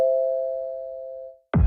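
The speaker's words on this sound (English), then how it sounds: "Her doorbell rang at 3:33 a.m." A single steady electronic doorbell tone rings out clearly at 3:33 a.m. and fades slowly before a brief harsh burst cuts in at the end.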